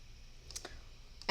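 Computer mouse clicking while working in a spreadsheet menu with an accounting add-on: a few soft, close clicks spaced apart, then a sharper, louder click at the end over quiet room hum.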